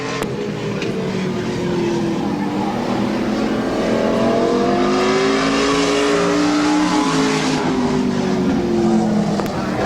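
Stock car engines roar steadily through a lap at Midvale Speedway's short oval, the sports stock class car's whine rising and falling as it circles, loud and continuous with crowd and track ambience beneath.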